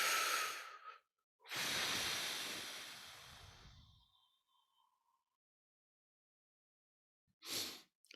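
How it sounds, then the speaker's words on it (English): A big, deep breath in a calm indoor setting: a short breath, a pause, then a long, full, airy inhale and slow exhale that fades into quiet. One more short breath follows near the end. "you want to just take a big deep breath"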